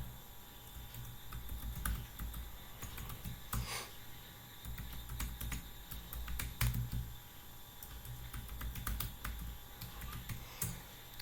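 Keys clacking steadily on a computer keyboard as a username and password are typed at a login page, a quiet run of close, irregular keystrokes over faint room hum with no voices.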